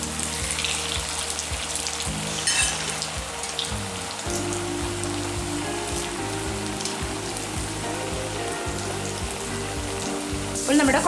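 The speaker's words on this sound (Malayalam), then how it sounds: "ഇതുപോലെ ഫ്രൈ ചെയ്തെടുക്കാം" Kuzhalappam, rice flour snacks, deep frying in hot oil with a steady crackling sizzle that runs throughout, plus a few louder bubbling bursts and faint kitchen clatter.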